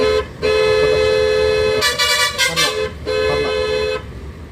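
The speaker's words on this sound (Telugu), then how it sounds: "కొట్టండి హార్న్ కొట్టండి" A car horn blares in long sustained blasts at a three-road junction, with a busy stretch of overlapping honks and engine noise from nearby traffic in the middle.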